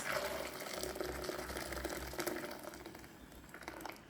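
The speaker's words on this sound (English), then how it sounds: "I'm gonna use boiled water, already boiled water. Add it to the pot" Already boiled water pours steadily into a cooking pot, a continuous splashing rush that slowly fades a little over several seconds.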